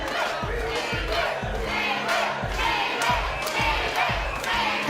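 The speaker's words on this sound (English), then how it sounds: "The crowd get behind Levy here as she circles in the outside" A boxing crowd at a women's bout cheers and shouts in a steady, loud roar, with repeated rhythmic low thumps running underneath.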